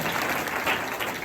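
A room full of guests at a Christian school's graduation ceremony claps together, producing dense, steady applause that holds evenly throughout.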